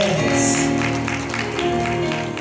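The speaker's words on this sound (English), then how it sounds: "Clap your hands." A congregation clapping hands during a church service, steady clapping mixed with crowd noise and sustained musical tones throughout.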